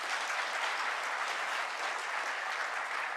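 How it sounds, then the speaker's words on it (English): Dense, continuous applause from a seated audience at a government launch event honoring a minister, steady and fairly close, with no talking over it. "give him another round of applause"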